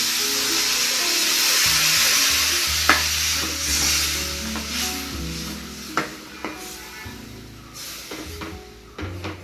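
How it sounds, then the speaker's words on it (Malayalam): Coconut milk is stirred into an onion curry in a pan in a Kerala-style kitchen, with a steady sizzle and bubbling under several sharp spoon taps against the pan. "ഇനി ഇതിലേക്ക് തയ്യാറാക്കി വെച്ചിരിക്കുന്ന തേങ്ങാപ്പാൽ ചേർത്ത് കൊടുക്കാം."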